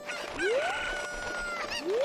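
Chickens in the Ocarina of Time video game give two rising, squawking calls, close and clear, in a short game sound clip.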